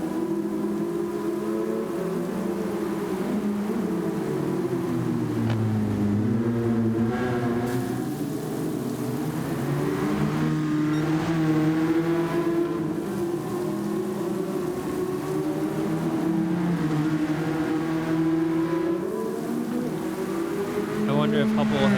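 On-board race car engine in a racing video game, a steady loud drone whose pitch rises and falls through gear changes and throttle, continuous for the whole stretch.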